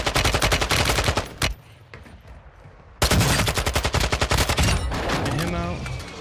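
Rapid automatic SMG fire in the Warzone video game, two loud close bursts of fast evenly spaced shots separated by a short quieter pause, with some chatter mixed in.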